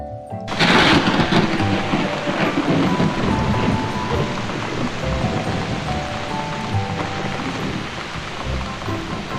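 Steady, dense rain pours down with a broad rushing hiss that starts abruptly and holds for the whole stretch; no distinct thunder stands out.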